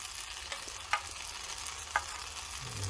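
Sausages sizzling and frying in a pan outdoors, a steady crackling hiss with a few sharper pops and scrapes as they are turned, no voices.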